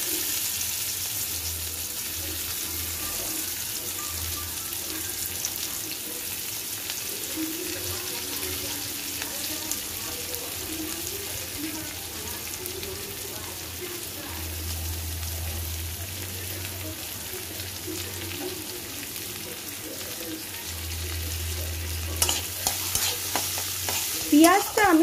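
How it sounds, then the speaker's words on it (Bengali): Chopped onions fry with turmeric in a kitchen pan: a continuous near sizzle and occasional stirring, joined by a running tap and some clatter toward the end, with no clear speech. "এবার এই পেঁয়াজগুলো যেগুলো কেটে রাখা হয়েছে এটা ভাজছি।"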